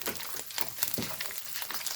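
Curry paste stir-fried in a pan for a Thai spicy stir-fry of chicken and pea eggplants, with a steady close sizzle and the scrape and rustle of stirring, without any speech.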